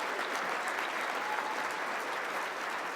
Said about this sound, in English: we can clap for Karen and Purdy's as well